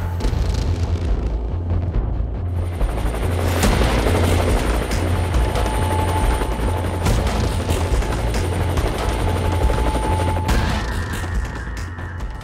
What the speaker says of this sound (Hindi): इस हेलीकॉप्टर का नाम भी जो है वो भगवान शिव के नाम से है, रुद्र।